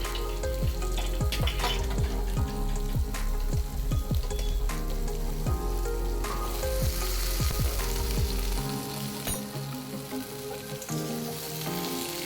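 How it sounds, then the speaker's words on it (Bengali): Potato pieces added to already fried eggplant, sizzling in oil in a pan, with a loud steady crackle and repeated knocks from stirring, easing slightly toward the end. "আবারও ওটাকে খুব ভালো করে নাড়াচাড়া করে মিনিট তিন চার সময় ধরে আলুটাকে আমি ফ্রাই করে নেব"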